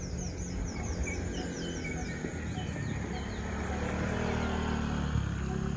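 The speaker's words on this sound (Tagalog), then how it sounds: "Halos ibon lang naririnig mo, mga hayop, mga animal, di ba?" Birds chirp and call repeatedly in the forest near Kakawayan Falls, bright tweets over a soft background rumble of a distant engine, no talking.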